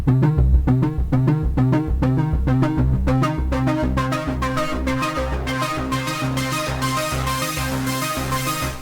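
A Nord lead synth in FL Studio plays a busy, rhythmic melodic pattern over a bass line while its filter cutoff sweeps, the tone starting muffled and growing steadily brighter and buzzier, loud with no voice.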